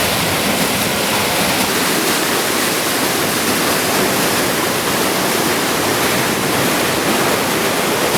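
River rapids rush through a narrow gorge, a dense, steady roar of churning whitewater that fills the scene continuously and loudly with no pauses.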